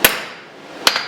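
Two sharp blacksmith hammer blows on round steel stock at an anvil, each a bright ringing strike with a short metallic ring after, the pair spaced nearly a second apart, close and loud with no voices.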